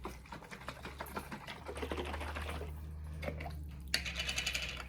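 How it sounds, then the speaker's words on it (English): A lidded jar of water is shaken vigorously to pick up leftover flavor, giving a few seconds of rapid, rhythmic sloshing and rattling heard close up, with no talking. "Don't forget the lid, and shake, shake, shake."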